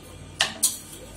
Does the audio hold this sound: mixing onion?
yes